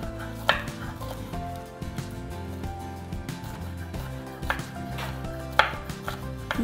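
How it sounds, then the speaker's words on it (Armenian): Vegetables being chopped into small cubes on a board, a series of close knife strikes at an uneven pace over a steady kitchen background, with a few sharper louder chops. "Այս բոլորը ես փոքր կտրատում եմ մանր քարակուսիների։"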